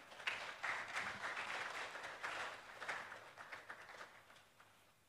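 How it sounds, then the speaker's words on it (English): Audience applause at a public lecture, a fairly faint wash of clapping that swells early, holds steady, then thins out toward the end. "With a round of applause, please."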